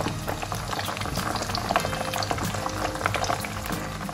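Lahori chargha chicken cooking on high flame: a steady, dense bubbling and frying hiss that continues loudly and evenly throughout, with no voices.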